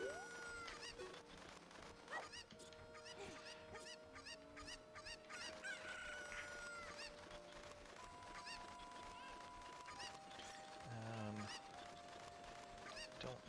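Cuckoo chickens cluck and squawk in the Zelda Ocarina of Time video game, several birdlike calls layered over continuous game music and tones, moderately loud throughout.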